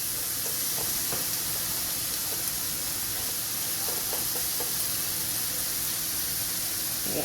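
Mushrooms browning in a frying pan for homemade meatloaf give a steady, close sizzling hiss with occasional small pops and crackles, heard alone without talk.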